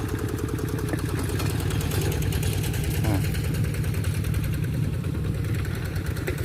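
A farm tractor plowing a rice field idles close by with a steady, rumbling low rhythmic chug, while a voice talks over it.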